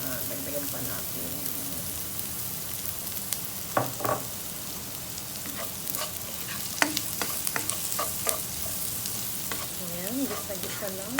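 Asparagus sautéing in sesame oil over low heat, a steady soft sizzle with intermittent stirring clicks and scrapes, close and fairly quiet throughout.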